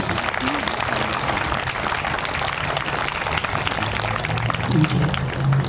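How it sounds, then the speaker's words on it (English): A crowd applauds graduates at a high school senior awards ceremony, with steady, continuous clapping and a voice speaking briefly over it. "a round of applause to our graduates here, our scholars"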